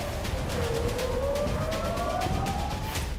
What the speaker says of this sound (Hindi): और जब वो इजराइल के आसमान में पहुंचे तो सायरन बजने लगे।